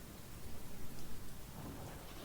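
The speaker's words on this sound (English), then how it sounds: "with the storm and all" Steady heavy rainfall during a storm, with low rolling thunder rumbling through the middle of the stretch; dense, continuous and enveloping, with no voices.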